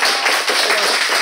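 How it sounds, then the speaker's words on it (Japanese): A small group claps loudly and continuously at the wrap of a NURO 光 web commercial shoot, a dense, close patter of hands with no pauses. "みんなに拍手されるの恥ずかしい。"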